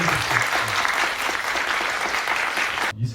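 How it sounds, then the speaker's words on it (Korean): Loud applause from a lecture audience, a dense continuous roar of clapping that cuts off abruptly near the end, with a voice faintly beneath it. "크게 박수 쳐주십시오."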